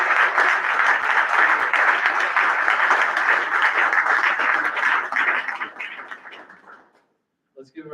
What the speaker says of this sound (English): Let's give our scholarship recipients and donors one more round of applause.